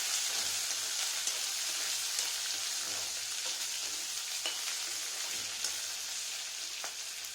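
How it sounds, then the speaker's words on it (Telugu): Chopped onion and green chili pieces sizzle softly in a pan as they are stirred, a steady fine crackle with occasional scraping taps, fairly quiet and with no voices. "ఉల్లిపాయల ముక్కలను అందులో వేయాలి తర్వాత పచ్చిమిర్చి ముక్కలు వేసి బాగా కొంచెం కలియబెట్టాలి"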